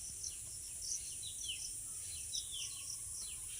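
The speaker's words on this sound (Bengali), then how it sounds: "আবার পাখির ডাকও শোনা যাচ্ছে" Small birds give quick, high chirps, repeated every fraction of a second and fairly distant, over a faint steady insect drone in the Bengal countryside at dusk.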